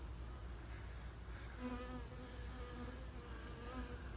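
Honeybees buzz around hives in an apiary, a steady droning hum with a clearer tone rising partway through, heard faintly at a distance over constant low background rumble.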